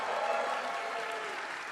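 Audience applause and cheering fill a theatre at a Death Stranding 2: On the Beach game premiere in the Orpheum Theatre, a steady, dense roar of clapping that holds at even loudness throughout.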